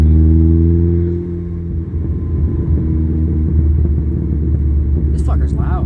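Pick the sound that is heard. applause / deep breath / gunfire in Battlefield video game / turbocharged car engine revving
turbocharged car engine revving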